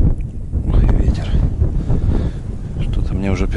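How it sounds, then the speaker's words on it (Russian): Strong wind blowing across a frozen lake at minus twenty during ice fishing, rumbling gusts buffeting the microphone close up, with a voice speaking over it. "Ой, ветер."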